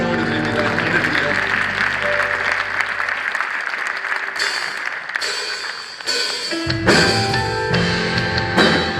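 Church congregation applauding during a Korean worship service, a dense wash of clapping that runs steady throughout, with music and voices mixed in and swelling louder in the later part.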